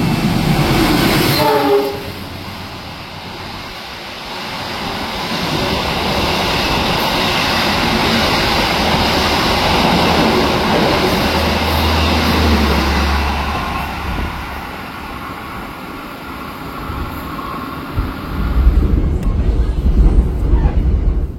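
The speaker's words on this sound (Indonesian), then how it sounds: "Di jalur 2 ini akan melintas langsung kereta api Argo Dwi Pangga dan akan menyusul kereta kita." A train, the Argo Dwi Pangga express, roars past at speed on the adjacent track while passing a stopped train in Indonesia, a loud sustained rush lasting many seconds before fading, with rumbling rail noise underneath.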